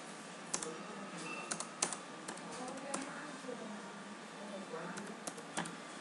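Rapid keystrokes on a computer keyboard as a card number is entered, irregular clicks with a few sharper taps, heard close over a steady room hum with no talking.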